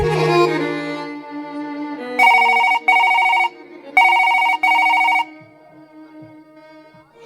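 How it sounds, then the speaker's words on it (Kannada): Incoming call on a telephone ringing twice in paired electronic trills, loud and bright, with a voice speaking before the rings and soft background sound continuing after. "ಫೋನ್ ಮಾಡಿದ ಅಂತ ಅನಿಸುತ್ತೆ"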